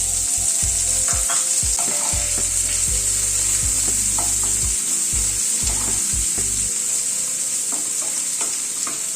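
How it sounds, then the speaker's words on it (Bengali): Chopped onion fries in hot oil with curry leaves in a pan over a medium gas flame, a steady bright sizzle throughout with scraping, knocking stirs from a utensil against the pan, close and without voices. "গ্যাসের ফ্লেমটাকে মিডিয়ামে রেখে পেঁয়াজটাকে হালকা করে ভেজে নেব।"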